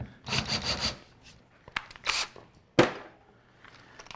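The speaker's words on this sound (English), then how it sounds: "use either a larger bit or a burring bit and do a countersink" A burring bit countersinks a screw hole in wood, producing a few short, close grinding and rasping bursts with pauses between them and a sharper scrape toward the end.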